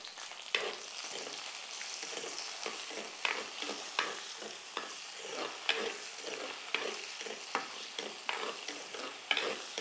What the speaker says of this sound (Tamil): இது வெங்காயம் சின்ன வெங்காயம், தக்காளி எல்லாம் போட்டு நல்லா வதக்கிடணும்.